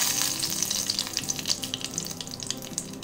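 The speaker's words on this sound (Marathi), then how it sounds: "बघा आता तडतडलो." Bay leaf splutters in a spoonful of hot oil in a wok, a Konkani-style tempering for tender cashew curry; steady sizzling with quick crackles and small pops, close and fairly quiet, no speech.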